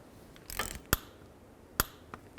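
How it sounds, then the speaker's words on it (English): A torque wrench tightens a rear sway bar link bolt on a 1996-2004 Nissan Pathfinder, giving a short ratcheting burst followed by two sharp, close clicks spaced about a second apart. "I'll use a torque wrench, and I'm going to torque this to 19 foot-pounds."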